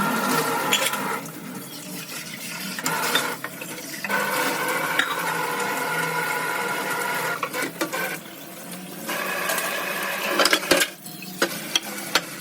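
Tea is being made in a home kitchen. A spoon stirs in a pot in uneven bursts, with watery swirling and scraping, and there are brief clinks near the end.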